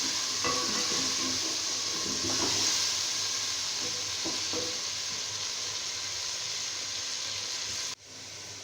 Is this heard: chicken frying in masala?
yes